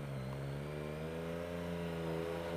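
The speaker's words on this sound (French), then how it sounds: "vous mettez des gaz, vous lâchez tout doucement le frein arrière et l'embrayage" A motorcycle engine idles and begins to pull away in first gear as the rider eases off the rear brake and clutch on a city street, a faint steady mid-pitched hum that rises slightly toward the end.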